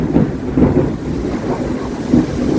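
Heavy rainstorm in Istanbul pours down steadily on a balcony, with deep rolling thunder rumbling through a constant broadband wash of rain and no talking.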